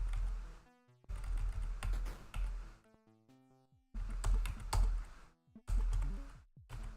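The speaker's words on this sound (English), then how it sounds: "I am on a mechanical keyboard." Keys clatter on a mechanical keyboard in close, bursty runs of typing separated by short pauses, with a few soft electronic tones sounding between the bursts.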